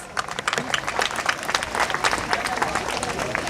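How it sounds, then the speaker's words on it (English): An audience at a school annual social gathering breaks into a round of applause, a dense, fairly loud patter of clapping hands that continues steadily throughout, with voices mixed in. "Appreciate them with a big round of applause."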